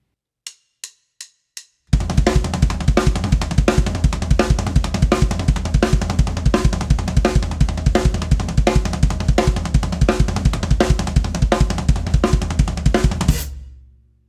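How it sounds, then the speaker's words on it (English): A few sharp stick clicks count in, then a loud, busy drum groove of booming kick, deep floor tom and snare hits, ending with a fading ring. "Just between kick, floor tom, and snare, it sounds like this."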